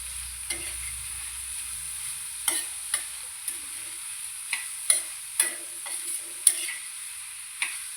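Leftover chapati pieces being stirred with onion and salt in a pan, a soft sizzle underneath with a series of sharp spatula scrapes and taps spaced irregularly across the mix, no talking.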